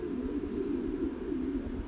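Pigeons cooing at a pigeon farm, a steady low continuous cooing from several birds close by, layered and unbroken throughout with no talking.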